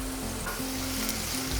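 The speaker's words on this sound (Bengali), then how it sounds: "2 থেকে আড়াই মিনিটের মতন আলুটাকে ভেজে নিয়েছি।" Potato pieces fry in hot oil in a pan for an egg curry, giving a continuous close sizzle with a faint steady hum underneath and no talking.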